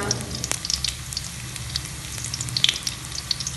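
Aromatics frying for capcay in a pan, a steady broadband sizzle with scattered small pops and crackles, close and continuous throughout, no voices.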